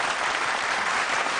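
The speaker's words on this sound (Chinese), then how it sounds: "我觉得应该给你掌声鼓励" A television talent show audience gives a singer a full burst of applause, a dense and even wash of many hands clapping with no pauses.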